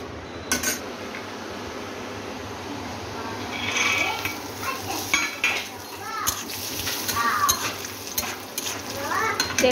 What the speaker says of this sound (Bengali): এই তেলে কটা বাদামও ভেজে নেব